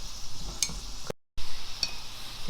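Wax and coconut oil are stirred gently in one direction in a double boiler over hot water, making a soft, steady swishing scrape with a faint bubbling hiss and brief light clinks.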